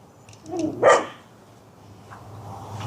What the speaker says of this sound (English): Dogs are over there.